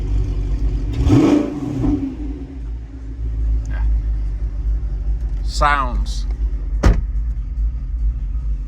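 An Audi R8 V8 (first generation, manual) idles with a deep, steady rumble and briefly revs up once, on a warm day, while people talk nearby.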